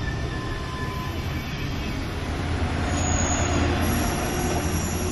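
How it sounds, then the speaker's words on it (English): A Danish DSB train rumbles steadily past, loud and close, with high wheel squeal and rolling rail noise throughout, heard in Denmark. "So here goes a train."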